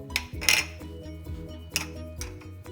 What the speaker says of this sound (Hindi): अब मैं इसको मिक्स कर रही हूँ।